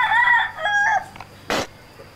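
A fighting cock crows nearby, a loud harmonic call lasting about a second, followed by a brief, harsh burst of sound and a fainter trailing note.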